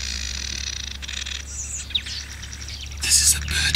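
Small birds chirp and tweet around a bird hide in a series of short high calls, fairly close, with a louder burst near the end over a low steady background hum.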